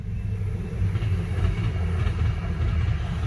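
A Northern Ireland Railways train to Derry rumbles steadily over Kilmakee level crossing in County Antrim at close range, deep low-frequency roar with faint rhythmic clatter, continuous throughout with no voices.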